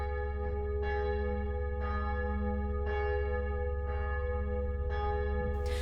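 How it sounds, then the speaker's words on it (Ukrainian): Church bells ringing in steady, resonant strikes, each tone sustaining and overlapping the next, with a low constant hum beneath. "тишу порушує лише передзвін старих дзвіниць"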